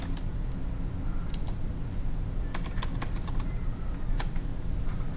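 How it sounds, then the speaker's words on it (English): Rapid clattering of keys on a computer keyboard, close and steady, with bursts of quick taps over a constant room hum. "if you want to search for a topic, you can just type in"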